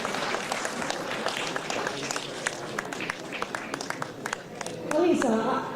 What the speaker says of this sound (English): May I ask everyone join us a big round of applause.